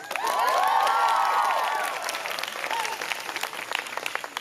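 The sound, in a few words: audience applause at closing convocation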